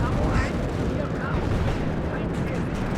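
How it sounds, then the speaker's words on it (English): In the WARNO real-time strategy game, an ammunition store cooks off in a heavy, rumbling explosion with crackling secondary blasts, loud and sustained beneath a commentator's talk. "Oh, ammo explosion."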